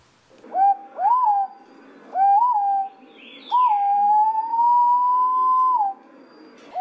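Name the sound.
green pigeon call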